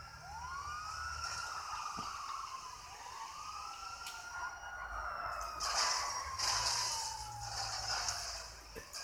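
Police car sirens wail in rising and falling sweeps during a chase in GTA 5, loud and fairly close, layered with engine rumble and no talk.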